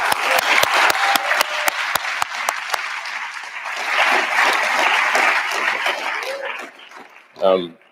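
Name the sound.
audience applause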